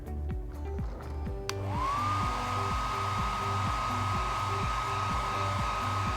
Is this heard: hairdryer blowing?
yes